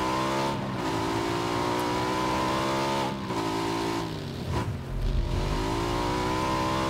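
Motorcycle engine revving steadily in PUBG, a sustained droning buzz with shifting pitch that dips and swells a few times, loud and continuous with no talk over it.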